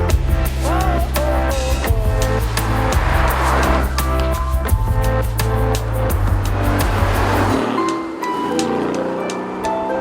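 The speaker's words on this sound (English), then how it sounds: "So the new Aston Martin Vantage, I can't believe I'm actually driving this." A 2018 Aston Martin Vantage being driven, its engine a loud, steady drone with pulsing gear-like steps in pitch that drops away near the end, leaving a lighter rushing sound.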